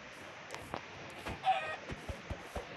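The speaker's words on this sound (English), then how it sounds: "There's a lot of chickens here, so I'll kill the chickens." Chickens in the video game Minecraft give faint, scattered clucks, a few short blips spread across a quiet stretch with no talking.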